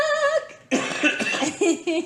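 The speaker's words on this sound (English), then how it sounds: "Sorry if you hear me coughing, folks." A person coughs several times in short, harsh bursts, close to the microphone, with a brief voiced sound before the coughing starts.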